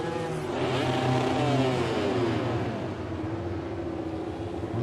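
A MotoGP launch as an Aprilia RS-GP rider drops the clutch at the Valencia test, the engine revving hard and rising in pitch, loud and close and mixed with other bikes roaring nearby, with no talk over it.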